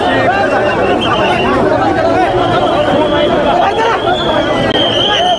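Dense chatter of a huge pilgrim crowd at the Pandharpur wari procession, a steady outdoor hubbub of many overlapping voices with no single speaker standing out, loud and continuous throughout.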